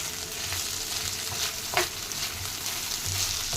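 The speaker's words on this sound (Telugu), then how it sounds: "అంతే, ఇలా వేయించేసుకోవడం." Jackfruit curry ingredients stir-fried in a pan, giving a steady close sizzle with light scraping stirs and one sharper clink partway through, no voices.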